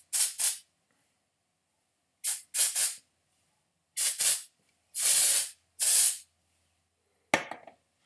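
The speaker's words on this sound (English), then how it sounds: "the dry texture spray is really good for that" Dry texture hair spray hisses from an aerosol can in short bursts, seven or so separate sprays of varying length with silent gaps, close and fairly loud.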